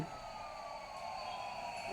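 A toy ambulance siren gives a steady electronic wail indoors, running at an even level throughout with a faint hum of room noise beneath.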